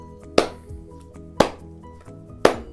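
Three sharp hand claps in an even, slow quarter-note pulse, about one second apart, fairly close and clear with a short decay and no talking, as in a children's music lesson.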